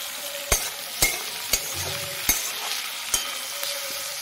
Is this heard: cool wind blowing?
no